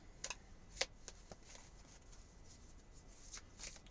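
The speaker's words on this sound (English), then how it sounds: "Let's shuffle the cards." A tarot card deck is shuffled by hand in a quiet room, with soft crisp riffles and several sharp card snaps scattered across a few seconds.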